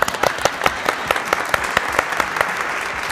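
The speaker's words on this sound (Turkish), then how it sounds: "Alkışlıyoruz doğru çıktı ya." A studio audience applauds on a Turkish TV quiz show, a loud, dense burst of clapping that carries on steadily throughout.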